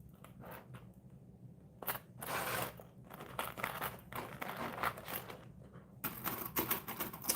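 A sewing machine stitches a circle bag in short bursts of rapid mechanical clatter separated by quieter pauses and handling noises, close by, with no talking.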